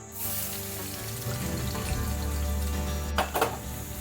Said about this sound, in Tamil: வெள்ளை பூண்டு சின்ன சின்ன கட் பண்ணி 1/2 கப் போட்டுரு